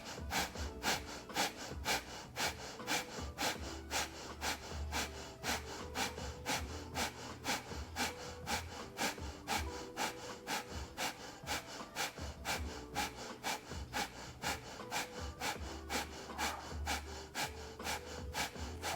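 Rapid breath of fire yoga breathing, fast rhythmic pumping exhales through the nose repeated steadily and close throughout, with no talking.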